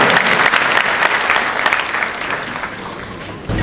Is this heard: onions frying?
no